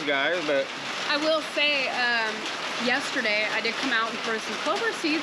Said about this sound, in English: So much rain all at once, you know.